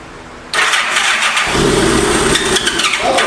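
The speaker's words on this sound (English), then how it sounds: "It's trying to crank and run though." A 1985 Honda Gold Wing 1200cc motorcycle with stale fuel cranks over, its starter churning loudly and steadily for about three seconds while the engine tries to catch, close by, with no talking.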